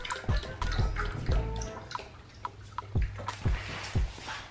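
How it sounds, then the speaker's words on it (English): Toy puppy in pretend-play vet check-up drinking water, giving repeated soft wet lapping and dripping splashes at an uneven rhythm, close and fairly quiet. "He's drinking all that water."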